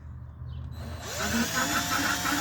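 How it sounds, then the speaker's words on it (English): A power drill whirs up after a quiet moment, running at a steady, moderate speed with a slight rising whine, fairly close, drilling into a fastener on a 2000 Ford F150 4.6L during an ABS module replacement. "I'm able to get the drill on there and I'm just going slowly"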